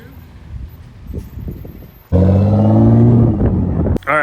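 A Nissan GT-R's engine suddenly roars up close and loud, holding a strong rising rev with a brief dip near the end. Voices and background activity come before it starts.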